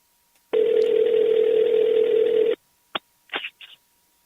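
A phone line gives a steady dial tone for about two seconds during a call back. A few short beeps and clicks follow, all loud and close, with no talking.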